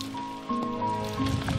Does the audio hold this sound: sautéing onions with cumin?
no